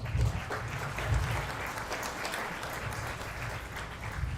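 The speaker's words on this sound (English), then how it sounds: "How about a round of applause for the family and guardian students who have joined us tonight?" A crowd at a school event applauds steadily, a dense wash of many hands clapping at an even level throughout, heard from within the audience.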